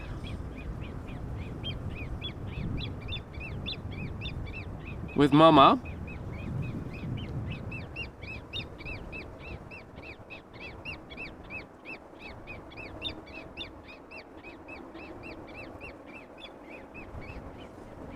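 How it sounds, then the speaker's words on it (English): A young grebe chick peeps in rapid, continuous high chirps near a busy airport, running steadily through the whole stretch; a brief voice and a short burst of noise interrupt early on. "if you are curious what the chirping is, it is this little Grebeling"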